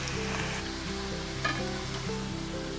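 Crispy fried instant porridge sizzles steadily in a pan over the flame, a continuous close frying crackle with faint background music tones and no talking.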